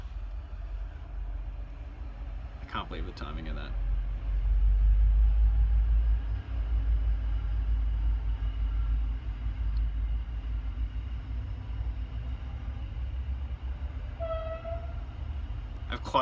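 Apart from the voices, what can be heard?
coal train passing by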